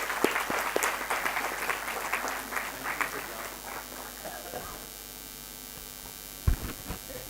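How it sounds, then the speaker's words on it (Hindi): An audience at a student valedictory function in Bhopal claps to welcome a speaker, brisk, dense applause that thins and trails off, followed by a short thump near the end. "जोरदार ताली से उनका स्वागत करेंगे"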